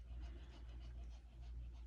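A hot puppy pants in quick, steady breaths, soft and close, continuing through the whole moment with no talking.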